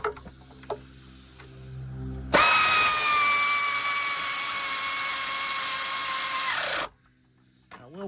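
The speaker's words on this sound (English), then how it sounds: "I will point out that it is a lot easier with the air ratchet, isn't it?" Air ratchet loosening a thermostat housing bolt on a Honda Element, a loud, close, high-pitched whirring whine that runs steadily for about four seconds, with quiet clicks of handling before and after.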